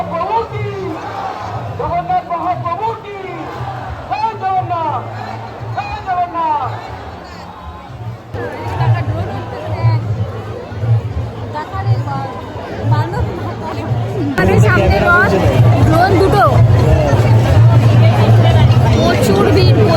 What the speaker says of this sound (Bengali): আর এখানে প্রচণ্ড ভিড়